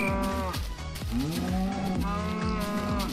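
Several cows moo in a barn in the video game Minecraft, with overlapping drawn-out low calls repeating loudly and close over a constant background of game sound.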